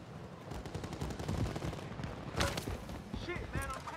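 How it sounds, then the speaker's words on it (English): Rapid automatic gunfire from Call of Duty: Warzone crackles in quick bursts, fairly close, mixed with a couple of sharper shots and voices talking over it. "I'm taking fire. They're shooting us from hotel too."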